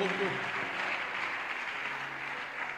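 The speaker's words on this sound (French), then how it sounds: "Est-ce que quelqu'un peut applaudir très fort pour la gloire du Seigneur?" Church congregation applauding loudly at a Sunday morning service, steady dense clapping across the whole moment with a murmur of voices mixed in.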